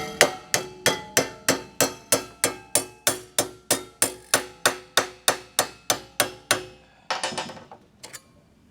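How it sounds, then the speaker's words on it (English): Sharp metallic hammer blows bend metal strips to fit. About twenty evenly spaced strikes ring out close by, each with a short ringing decay, then a few looser, scraping knocks close the sequence. "I'll take the hammer over here"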